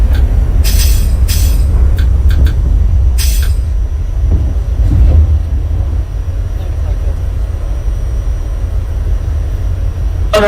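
An R68 subway train in the OpenBVE simulator rumbles steadily as it departs Astoria-Ditmars, with brief bursts of hiss and a few clanks over the continuous low drone.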